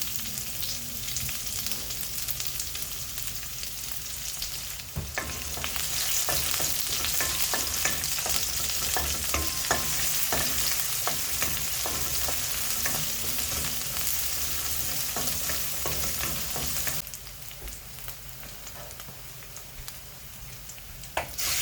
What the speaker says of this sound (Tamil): இனி வெங்காயம் போட்டு நல்லா வதக்கிக்கலாம்